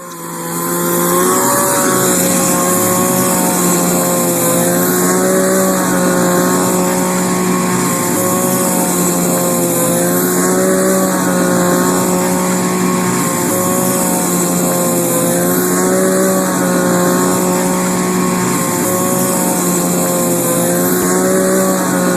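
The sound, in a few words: two-stroke hedge trimmer running, played video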